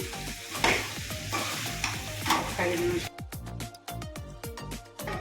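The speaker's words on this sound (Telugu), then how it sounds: "కడిగి పెట్టుకున్న మునక్కాయ ముక్కలు ఆరు మునక్కాయలు బాగా కలుపుకొని" A spoon works drumstick pieces through a cashew and milk curry in a pan, with scraping stirs over a bubbling fry, then a run of sharp, rapid scrapes and clinks near the end, close and fairly loud.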